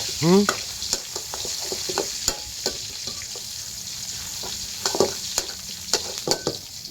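Vegetables, pork and greens, stir-frying in a wok of reused old cooking oil, with steady close sizzling and repeated sharp scrapes and clatters of a spatula against the pan.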